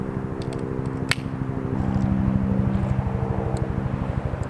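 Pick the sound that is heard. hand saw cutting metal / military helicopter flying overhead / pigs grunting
military helicopter flying overhead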